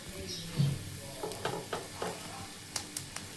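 Green chillies charring over heat, a quiet sizzle with several light, irregular crackles and pops spread across a few seconds, no talking.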